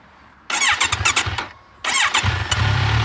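A 2019 Kawasaki Z1000 SX engine fires up in two loud bursts with a short pause between, settling into a deep, close burbling idle.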